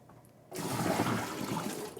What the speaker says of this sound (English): I'm going to dump a little water out